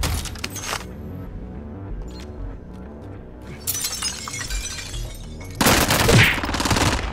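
Game gunfire from a PPSh submachine gun, loud rapid bursts in two main volleys with a brief shattering crash mixed in, over a steady music-like game backdrop.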